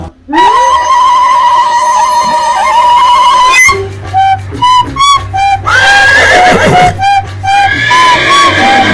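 A horse neighing sound effect, loud and close, one long shrill whinny followed by a string of shorter stuttering neighs, then another rising whinny, with no talking over it.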